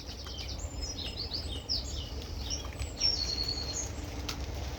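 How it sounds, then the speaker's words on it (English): Faint blackbird and wren song with varied chirps, trills and whistles drifts over a steady hiss of rain, distant and soft throughout. "Blackbird, wren."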